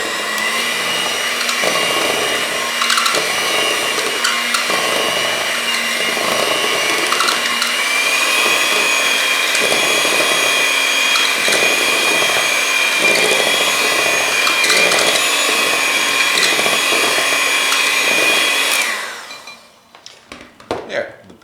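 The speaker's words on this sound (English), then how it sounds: "Then I'm going to give this one final very quick mix with the electric beaters." Electric hand beaters give a final quick mix to pineapple upside-down cake batter in a bowl, a steady loud motor whine running continuously close by before cutting off near the end.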